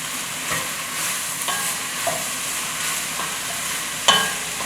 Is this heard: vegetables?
yes